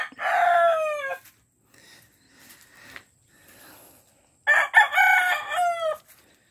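Chickens near toppled coops after a typhoon: a loud rooster crow at the start, faint clucks in between, then another full crow, close by in a quiet yard.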